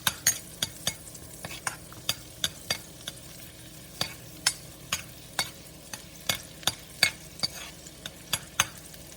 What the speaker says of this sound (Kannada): ಇವನ್ನಾಗೂ ಸ್ವಲ್ಪ ಫ್ರೈ ಮಾಡಕತ್ತೀನಿ